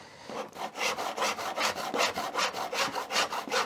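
A hand saw crosscutting through a wooden plate with steady back-and-forth strokes, about a dozen evenly spaced rasping pushes and pulls, close and clear with no talking.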